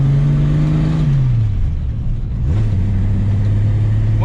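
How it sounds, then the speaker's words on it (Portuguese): A six-cylinder Ford Mustang engine hums loudly nearby, its pitch dipping as revs drop, then steadying into a smooth idle-like drone. "Olha que delícia, cara, de ouvir esse motor 6 cilindros."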